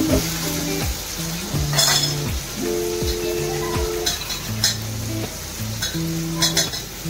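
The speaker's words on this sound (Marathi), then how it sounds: "मसाला छान फ्राय करून घ्यायचा।" Agri masala and tomato fry in a pan while a utensil stirs and scrapes in short repeated strokes, with a continuous sizzle underneath and occasional metallic clinks, no talking.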